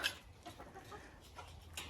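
Faverolles and Marans hens inside a henhouse give soft, scattered clucks and low murmurs, fairly close but quiet, with no talking.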